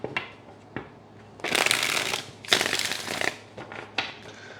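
Tarot cards being shuffled in a few quick riffling bursts, close and crisp, with soft taps between them.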